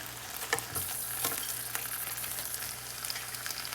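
Grilled chicken breast seasoned with Trader Joe's Elote Seasoning sizzles in a hot pan after being flipped, a close, steady frying hiss with a few soft knocks and scrapes as the piece turns.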